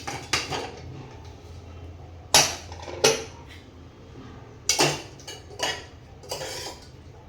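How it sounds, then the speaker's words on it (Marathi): A pressure cooker that has gone through two whistles and cooled, holding a soya chunk curry, has its lid worked open with a series of sharp, close metallic clanks and rattles spaced irregularly, with no talking. "तर इथे कुकरच्या 2 शिट्या झाल्या, कुकर सुद्धा थंड झाला। आता ओपन करून बघते।"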